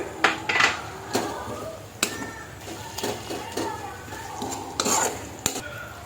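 Chopped tomatoes go into a pressure cooker pot for chicken biryani and are stirred, giving scraping clinks of a utensil against metal with faint sizzling beneath, close and intermittent.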